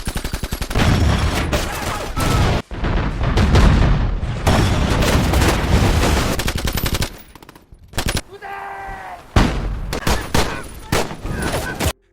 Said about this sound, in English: As they closed in on the pillboxes, both sides opened fire